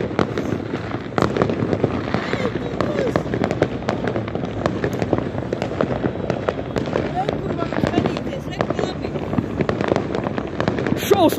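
New Year fireworks burst over a city in a dense run of cracks and pops, near and far, with people talking and exclaiming throughout.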